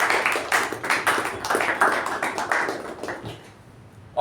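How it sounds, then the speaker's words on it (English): Applause from a Toastmasters meeting audience after a table topics session: dense clapping from many hands, steady and fairly loud throughout, easing off slightly near the end, with no voices over it. "So a round of applause for table topics."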